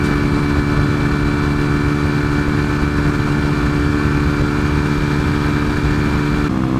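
A 125cc motorcycle engine runs loud and close, a steady droning growl holding at a constant pitch throughout, with no speech.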